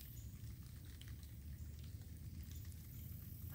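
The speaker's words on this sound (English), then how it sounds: "We're just gonna sit here and listen to the nice rain a little bit." Light rain falls outdoors on a morning hike, a faint steady patter with soft scattered drops and no voices.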